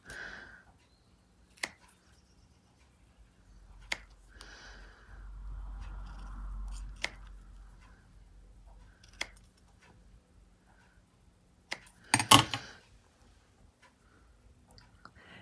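Scissors trim a metallic charm in a quiet room, giving several sharp, isolated snips spaced seconds apart, with a louder cluster of cuts near the end and a faint low rumble in between.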